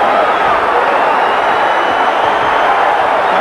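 Loud, steady crowd roar fills an arena as boxers trade punches toe-to-toe in the ninth round of a super welterweight bout between Roberto Duran and Nino Gonzales; the dense noise continues without a break.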